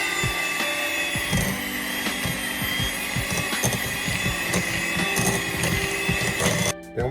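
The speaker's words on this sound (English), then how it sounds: "we're gonna use our hand mixer and cream this butter before we add our cream cheese" A hand mixer creaming butter in a bowl makes a steady motor whine throughout, with rhythmic knocks of the beaters against the bowl, then stops abruptly near the end.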